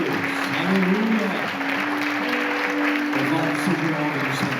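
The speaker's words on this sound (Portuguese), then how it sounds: "Vamos aplaudir a Jesus" A church congregation at a Mother's Day service gives continuous applause, a thick, even roar of clapping hands. Voices and held musical tones sound underneath.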